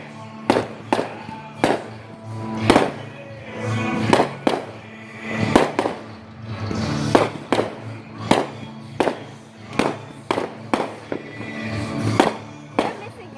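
Fireworks bang repeatedly on a July 4 night, sharp loud bursts arriving in an irregular series every second or so, some followed by crackling tails, with faint voices between them.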